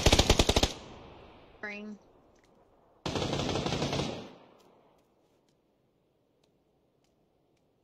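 Video game gunfire comes as a sharp, loud burst of rapid automatic shots, then a brief tone and a second sustained burst that fades into silence, with a single spoken word over it.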